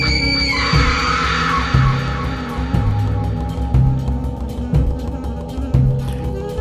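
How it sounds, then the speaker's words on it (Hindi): Screaming sound effect for a Hindi horror story set in a ruined palace on a new-moon night: an eerie, wavering scream over a deep, booming heartbeat-like thud that repeats about once a second. "आज भी हर अमावस की रात को इस महल से चीखने की आवाजें आती हैं।"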